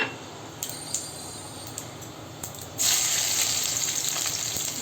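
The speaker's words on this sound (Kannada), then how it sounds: "ಈಗ ಬರೀ ಸಾಸಿವೆಯನ್ನು ಒಗ್ಗರಣೆ ಮಾಡೋಣ." Mustard seeds hit hot oil for tempering. A few faint ticks and pops come first, then a sudden loud sizzle starts and keeps going close by.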